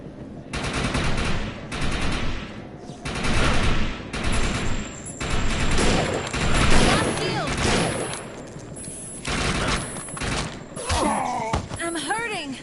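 Rapid bursts of automatic gunfire and heavy shots fill a sci-fi shooter battle in Defiance 2050, with thuds, beeping tones and overlapping chatter as characters shout amid the near-continuous firing.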